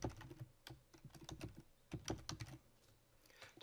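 Keys on a computer keyboard are tapped to type a folder name, giving a quiet, irregular run of close clicks and short bursts with small pauses and no talking.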